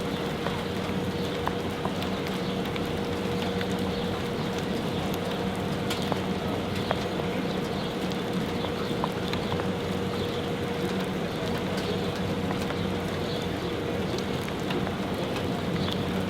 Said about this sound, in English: And guys, the rain is coming down. The storm is coming down.